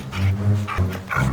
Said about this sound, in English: A group of dogs spotted him and started chasing him.